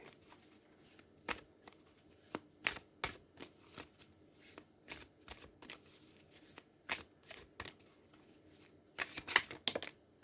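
Oracle cards are shuffled by hand in a quiet room, producing a series of crisp riffling bursts at an irregular pace with a denser flurry near the end.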